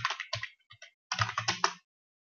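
A computer keyboard clatters under fast typing while code is written, two close bursts of crisp keystrokes split by a brief pause, then silence.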